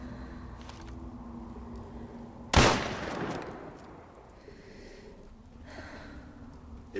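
A single loud gunshot in Fallout 4 cracks out of quiet ambient game noise, its sharp blast trailing off over a second or so before the low background hum returns.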